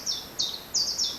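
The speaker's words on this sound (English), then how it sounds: "you might just hear that bird song" A songbird sings outdoors: four quick, bright high-pitched phrases in steady succession, fairly clear against a quiet background with no talking.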